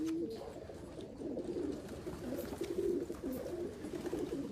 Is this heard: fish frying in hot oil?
no